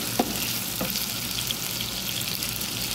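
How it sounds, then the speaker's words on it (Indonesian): Meat stir-fried in a pan sizzles in a steady, close hiss, with a couple of faint scraping stirs breaking through. "ditumis-tumis seperti ini"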